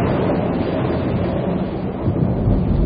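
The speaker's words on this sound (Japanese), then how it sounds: "近くで鳴ってる雷の音を混ぜています" Recorded thunder mixed into a studio radio show for a summer seaside feel, a dense, continuous low rumble of rolling thunder with a rain-like wash, loud and unbroken throughout.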